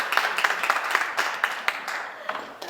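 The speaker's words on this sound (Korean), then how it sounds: "우리 김백선 목사님 박수로 모시겠습니다" Audience clapping to welcome a pastor to the stage at a missionary lecture, scattered distinct claps forming light, thin applause at moderate distance.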